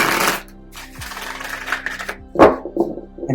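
Tarot cards are shuffled by hand in short bursts of crisp riffling and tapping, close and fairly loud, with quieter pauses between the bursts.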